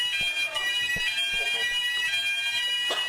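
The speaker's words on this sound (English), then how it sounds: "It's going to be a person attack alarm." Personal attack alarm going off in a hospital: a loud, continuous, shrill electronic tone that holds steady for the whole stretch, with a few faint thumps and movement beneath it.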